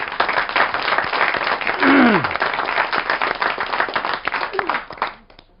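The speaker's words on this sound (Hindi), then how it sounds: "आप एक बार जोरदार तालियां दे दीजिए।" An audience at a Hindi poetry gathering gives a poet strong applause, continuous dense clapping with a few voices calling out over it before it dies away.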